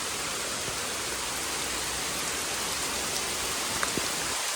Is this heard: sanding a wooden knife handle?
no